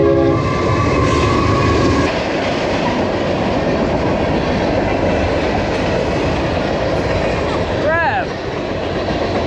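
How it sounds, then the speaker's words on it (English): A train rolls past a lake shoreline, a loud steady rumble with clattering wheels throughout, and a short horn blast near the end; a voice speaks briefly. "Comes a train."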